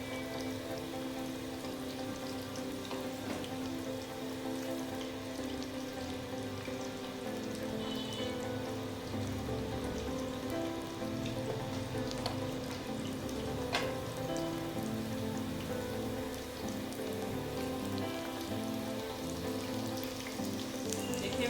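Fish frying in oil in a pan at home, a soft steady crackle and sizzle like light rain, fairly faint and continuous, with no talking.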